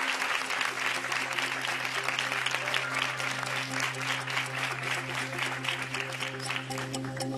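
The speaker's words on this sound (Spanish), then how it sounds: "Aplausos, porque es amortizar, suma una más." Studio audience on the Pasapalabra game show breaks into steady, dense applause that holds at an even level throughout, with a low sustained musical tone underneath.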